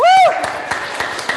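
A congregation at a Unitarian church service gives a short group cheer: a loud rising "woo" of many voices at the start, then scattered claps and crowd noise.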